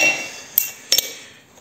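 Sledgehammer blows on a bolt set in a pulley resting on a small anvil, with a washer inside, on a workshop bench: one sharp metallic strike, then a quick double hit, loud and close with ringing between.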